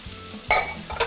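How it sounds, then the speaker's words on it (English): Green and red peppers being stirred in a frying pan, two short scraping bursts over a faint, steady sizzle, close and fairly quiet. "I'm going to stir these for about 6 to 8 minutes, just until they're cooked through"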